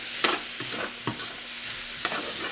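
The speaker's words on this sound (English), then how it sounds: "Saute our onions." Onions sautéing in a pan before deglazing, a continuous close sizzle with a few distinct spoon scrapes and taps against the pan.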